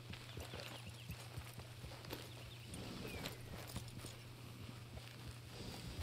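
A horse's hooves clip-clop at a steady walking pace in the video game Red Dead Redemption 2, soft and even beneath a low, constant ambient hum, with no voices.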